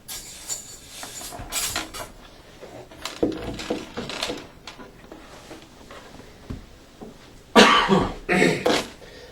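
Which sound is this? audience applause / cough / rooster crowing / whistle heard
cough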